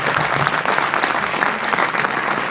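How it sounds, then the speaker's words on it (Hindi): Loud, dense applause from an audience at a Hindi-Urdu poetry recital honoring a poet, sustained evenly throughout with no talking over it. "शकील आजमी के लिए एक बार फिर जोरदार तालियां।"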